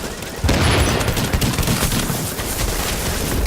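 Dense gunfire from The Division played on console, a sudden burst of rapid overlapping shots that starts half a second in and keeps up loud and close, with near-continuous automatic fire and impacts to the end.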